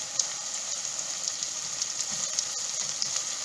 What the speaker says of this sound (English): I'm going to add in some spices. 1 teaspoon cumin,